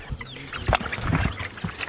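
Young backyard chickens cluck and murmur close by, soft irregular calls spread across the moment alongside light scuffling near their water.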